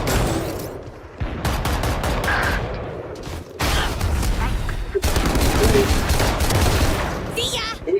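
Dense volleys of game gunfire fill a Valorant Masters Madrid grand final match, loud bursts and rapid shots running almost continuously with brief breaks, while voices talk over the shooting.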